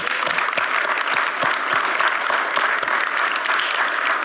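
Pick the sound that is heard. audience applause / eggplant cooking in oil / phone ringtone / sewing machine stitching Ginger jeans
audience applause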